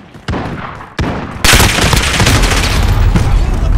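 Gunfire in a Call of Duty Modern Warfare team deathmatch: a couple of sharp single shots, then loud, dense bursts of rapid firing with booming impacts, all close and heavy.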